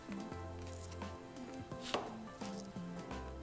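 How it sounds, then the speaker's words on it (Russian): A knife slices raw shashlik meat across the grain in a series of soft, close chops over quiet background music. "И сейчас разрезаем поперек."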